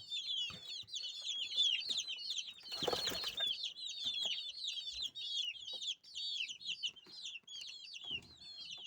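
A dense chorus of high cheeping chicks, some about 20 days old, fills the air continuously, with a brief burst of clucking and flapping from larger chickens partway through.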